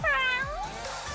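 A single drawn-out meow from Kuro, a cat demon character in a video game, voiced as a rising then falling cry, close and clear, about a second long.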